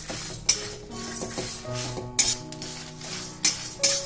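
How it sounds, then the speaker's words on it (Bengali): Whole spices dry-roast in a kadai over a medium-low flame while a spoon stirs them, with scraping and several sharp metallic clinks against the pan over faint background music. "এই সব গোটা মশলাটাকে আমি কড়াইতে শুকনো খোলা একটু ভেজে নেব"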